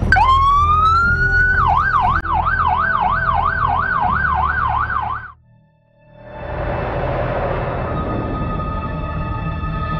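A loud, close ambulance siren in Indonesia wails, first rising, then cycling quickly up and down, cuts out briefly, and traffic noise with a fainter tone returns.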